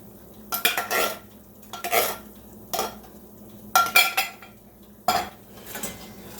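A whisk works canned cream of mushroom soup into cream, producing about five quick bursts of clinking and scraping against the bowl, separated by short quiet gaps.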